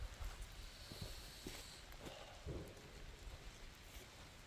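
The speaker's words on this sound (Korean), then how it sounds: "비가 오네요" Rain falling outdoors in a garden while pine trees are being pruned and wired, heard as a faint, steady patter with a few soft thumps and shuffling sounds nearby.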